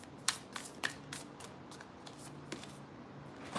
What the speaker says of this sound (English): so now I'm going to go ahead and start throwing cards down.